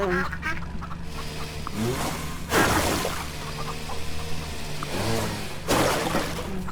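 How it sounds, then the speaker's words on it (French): Ducks quack in the video game Farm Together in short nasal bursts, several calls overlapping, with a steady low hum and occasional louder noisy whooshes in the background. "Ah, là, les petits canards."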